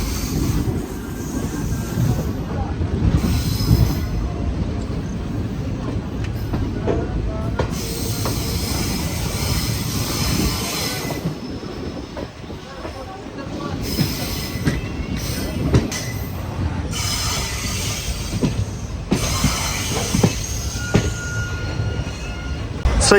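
Sapthagiri Express passenger train from Tirupati to Chennai Central, pulled by locomotives at front and rear, rumbling steadily along the rails with wheel squeal and clatter, loud and continuous throughout.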